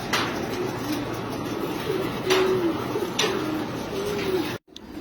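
Stray homing pigeons wandering into a pigeon keeper's loft coo softly and repeatedly, with several close, low, rolling calls in a quiet setting before the sound cuts off abruptly near the end.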